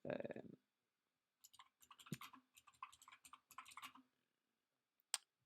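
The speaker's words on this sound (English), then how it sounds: "I've got the loudest keyboard." A very loud computer keyboard being typed on in bursts of rapid clicky keystrokes, close to the microphone, with a short sound at the start and a final sharp key hit after a pause.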